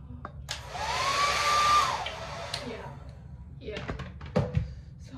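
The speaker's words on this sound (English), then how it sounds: "and the blow dryer." A handheld blow dryer whirs steadily for about two seconds while drying hair, then cuts off, followed by a few soft clicks and taps close by.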